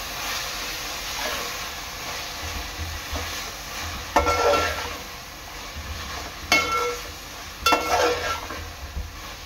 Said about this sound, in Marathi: आता हे चांगले एकजीव करून घ्यायचे आहे।